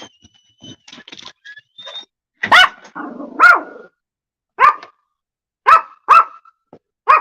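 Dogs barking outdoors on a rural property: a series of sharp, loud barks in irregular bursts, several close together, with quieter yips and a brief growl between them.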